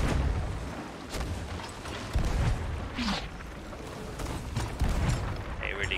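Cannon fire between ships in the video game Sea of Thieves: several dull booms and thuds spread irregularly over a busy background, fairly faint, with people talking over it.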